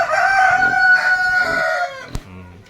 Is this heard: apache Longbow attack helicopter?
no